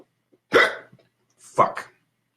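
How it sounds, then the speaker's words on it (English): A man hiccups twice, two close voiced jolts about a second apart, nearby and fairly loud against near silence. "I got the hiccups."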